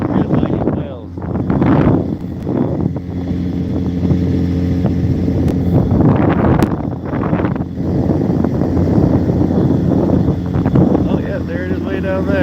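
Strong wind buffets the microphone over a steady engine drone from a moving fishing boat in Alaska, with people talking intermittently above the roar.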